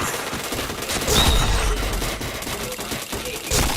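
Rapid bursts of video game gunfire rattle in dense automatic volleys, loud and close, with a brief swell partway through and a faint voice beneath.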